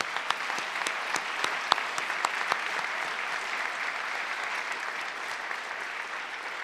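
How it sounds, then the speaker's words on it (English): An audience honoring a team at a girls' education event applauds warmly, a continuous even roar of clapping with a few crisp, louder claps popping out early before it settles. "So please give them a special round of applause."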